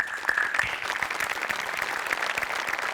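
A television comedy show audience gives brisk, even applause, with a dense patter of claps held at a steady level throughout.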